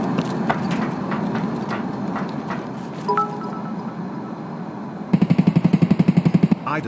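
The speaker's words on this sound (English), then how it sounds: "They're shooting at me." Automatic gunfire in the video game Escape from Tarkov, a loud rapid burst of evenly spaced shots near the end, following scattered distant single shots over a steady ambient background.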